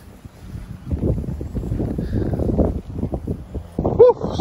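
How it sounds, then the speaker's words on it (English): Gusty wind buffets the microphone in rough, uneven blasts on a farm, with a brief voice breaking through near the end. "Woo, it's windy."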